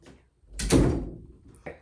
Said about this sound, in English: Can you close the door when you're done?